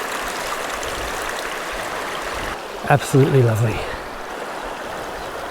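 Steady rushing of a clear river stream flowing close by in the Victorian High Country near the Billy Goat Track, Australia, with someone briefly speaking partway through.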